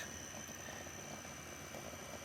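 An electric bike's resonant motor-wheel generator setup runs with a steady, even whine and hum. The drone stays constant and fairly quiet from start to finish, with no voices over it.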